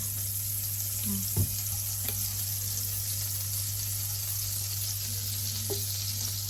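Butter and olive oil sizzle steadily in a pan, a constant close hiss broken by a few faint scrapes and taps of stirring.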